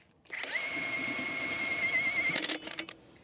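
A pneumatic impact gun on its third setting tightens truck wheel nuts during Freightliner repair work: one steady, loud, close whirring burst of about two seconds, ending in rattling hammer blows as it stops by itself.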